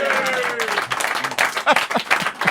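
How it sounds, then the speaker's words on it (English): Applause from a capacity studio crowd at a TV show taping, a loud, brief burst of clapping rising quickly with a voice heard briefly at the start. "And a big round of applause to your good selves"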